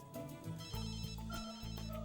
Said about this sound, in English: your phone is so annoying me. Can't you answer it?